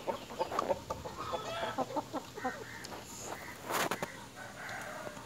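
Native country chickens clucking and calling busily while feeding on a farm, with overlapping close cackles and chirps over steady background bustle, one louder burst of calls near the end.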